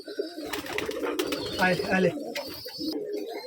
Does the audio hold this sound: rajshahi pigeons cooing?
yes